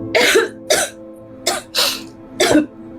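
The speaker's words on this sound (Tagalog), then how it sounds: "Inuubo ka na naman" Five separate coughs, close and fairly loud, in uneven bursts with short pauses between them; no talking.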